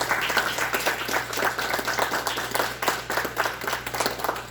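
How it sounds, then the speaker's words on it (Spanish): Audience applause for Dr. César Villegas after his class on the nature and scope of private international law, a steady, moderately loud patter of many hands clapping throughout with a low steady hum underneath. "un aplauso para el doctor Villegas, por favor"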